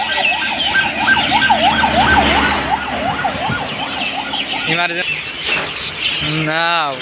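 An ambulance siren wails on the road near Kamarkhali bridge over the Gorai river, rising and falling loudly over traffic rumble, then short whooping siren bursts near the end, with people talking.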